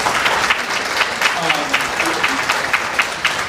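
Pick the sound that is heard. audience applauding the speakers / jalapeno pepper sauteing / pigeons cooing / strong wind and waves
audience applauding the speakers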